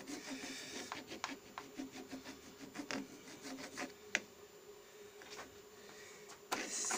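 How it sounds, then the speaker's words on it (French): A metal file rasps across the top of an original Motobécane Motoconfort moped shock absorber to remove burrs, making quiet, close, scraping strokes in an irregular rhythm with a few sharper clicks. "on va prendre une lime. Comme ça. Et on va limer ça"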